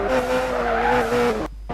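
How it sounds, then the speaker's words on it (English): Race car in a racing video game skidding and spinning out on a curve, a loud tire squeal over engine whine lasting about a second and a half before cutting off abruptly. "accelerating too soon on the curve and spinning out"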